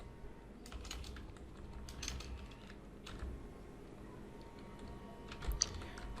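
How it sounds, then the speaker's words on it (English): Steady close-up typing on a computer keyboard, a quick run of soft key clicks with brief pauses, at low volume. "Suppose we open our browser and type"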